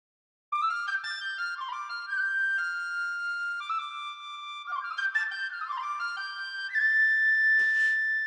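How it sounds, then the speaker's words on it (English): A tin whistle plays a bright, clear melody alone, decorated with quick trills and flicking ornaments between held notes. "if we just solo the tin whistle, you can hear some of the ornaments that I've applied"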